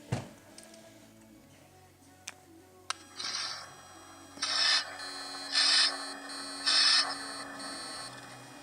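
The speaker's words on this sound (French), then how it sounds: "il y a une musique assez sympa au démarrage" A Hummea phone plays its startup tune, a series of short bright musical tones in four evenly spaced bursts after a few clicks, close and clear with no talk.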